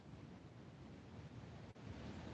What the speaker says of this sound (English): I don't know if you can hear the waves crashing behind me.